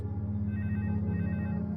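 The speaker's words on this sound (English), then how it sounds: "Her private phone rang." A private telephone rings with a steady electronic bell tone, a continuous ringing that sounds close by and alone, with no voices over it.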